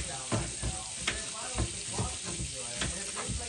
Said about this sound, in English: I'm gonna put the stove in on medium heat, so it's not burnt, and I'm just gonna get some onions